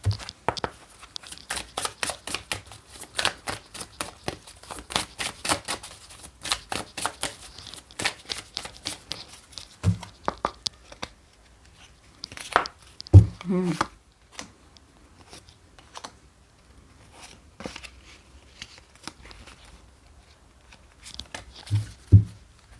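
Tarot cards are shuffled in quick rapid riffles and flicks at close range, dense at first, then sparser with a few taps and card handling noises.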